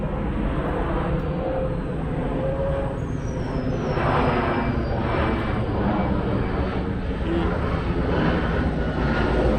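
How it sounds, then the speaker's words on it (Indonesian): A jet airplane roars overhead after takeoff from Soekarno-Hatta Airport, a loud broad continuous rumble that swells slightly midway, with a faint high whine above it. "banyak pesawat lalu lalang ya."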